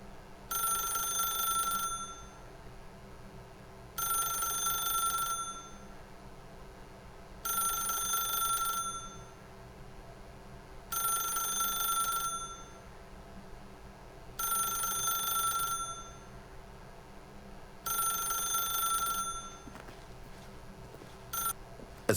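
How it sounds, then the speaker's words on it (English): A telephone rings in The Stanley Parable video game, a steady electronic ring repeating six times in evenly spaced bursts of about two seconds, each separated by quiet gaps. "then pick up the phone."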